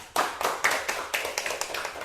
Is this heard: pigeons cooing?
no